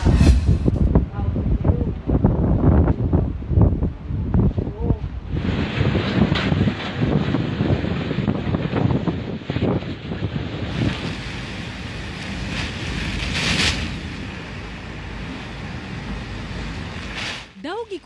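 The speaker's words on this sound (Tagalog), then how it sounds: "Daw gikuso-kuso sa kusog nga hangin kining mga punuan sa kahoy sa pipila ka mga lugar sa Camarines Sur" Strong typhoon wind from Typhoon Rolly roaring through and shaking trees in Camarines Sur, a loud continuous rushing gust with heavy buffeting noise throughout, a voice talking over parts of it.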